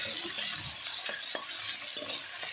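Vegetables with cumin and dried chilli tempering are stirred in a hot pan for a pippali-greens and small-fish dish. Steady close sizzling runs throughout, with a few soft scrapes from the stirring.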